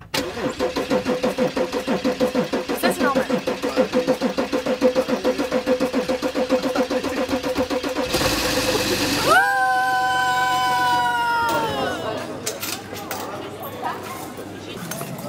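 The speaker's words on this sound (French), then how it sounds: "On va peut-être avoir du mal à démarrer parce que la voiture, elle a du mal à démarrer" A car on an autumn day cranks repeatedly with a rapid rhythmic starter whir for several seconds, then a louder burst and brief rising whine before sputtering; people talk nearby.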